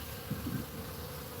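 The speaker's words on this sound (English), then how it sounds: "the bees are doing their best to clean it up" Honey bees buzz steadily around honey frames in a hive, a low continuous hum with a brief louder swell near the start and no talking.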